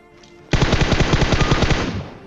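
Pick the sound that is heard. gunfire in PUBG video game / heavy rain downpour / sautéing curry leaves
gunfire in PUBG video game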